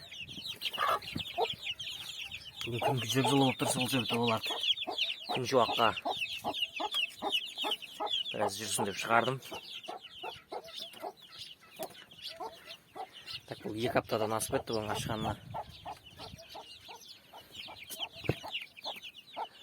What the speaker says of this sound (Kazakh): Тауық жүр балапанымен.